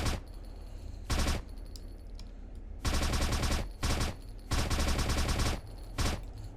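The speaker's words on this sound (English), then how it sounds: "shooting some more of this PP Bison here. You can hear the shells hitting the ground." Bursts of PP Bison submachine gun fire in an Unreal Engine 5 shooter, about five loud automatic volleys split by short pauses, with faint tinkling of spent shells hitting the ground between them.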